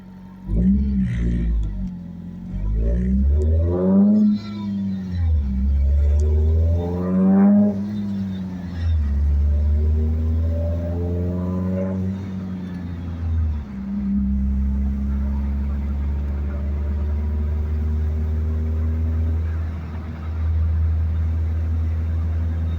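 A turbocharged car engine drones steadily while driving in fourth gear, swelling and settling with each throttle change, with a brief turbo rise in the middle.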